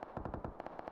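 Rapid bursts of gunfire from an M4 rifle in a video game, a fast rhythmic string of sharp shots, fairly loud and steady across the moment with no talk.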